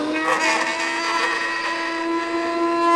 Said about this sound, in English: Dust collector.